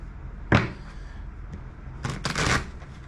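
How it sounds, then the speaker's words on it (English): Oracle cards being shuffled by hand, a sharp riffle followed by a longer rustling burst of cards, close up and fairly loud against a quiet room. "I'm hanging out and shuffling cards"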